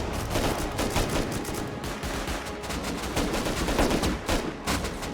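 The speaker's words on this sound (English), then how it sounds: "Attackers pushing back and putting a bit of suppressive fire back on that sniper tower" Sustained suppressive gunfire rattles through a raid in the survival game Rust, dense overlapping automatic bursts and single shots firing almost continuously at a steady, loud level with no speech.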